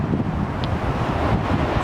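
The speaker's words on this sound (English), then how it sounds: "windy today." Strong outdoor wind gusts steadily into the microphone, a constant low roaring buffet with no voices.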